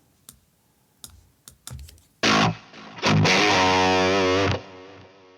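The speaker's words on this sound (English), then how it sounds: "Let's make it into a proper lead and let's add a bit of delay" A Mesa Boogie Mark IIC+ lead guitar tone with delay and reverb rings out loud after a few sparse picked clicks, holding one sustained, heavily driven note for about two seconds before cutting off.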